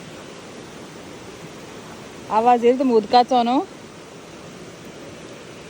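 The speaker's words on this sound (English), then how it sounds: "so I literally can hear the waterfall, the water flowing." Swallow Falls waterfall in Snowdonia, Wales, gives a constant broadband rush of flowing water, with a person briefly speaking over it midway.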